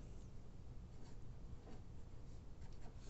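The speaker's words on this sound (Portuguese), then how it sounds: "Então, vamos escrever." Pen or pencil scratching steadily across paper in short continuous strokes, quiet and close, with no voices.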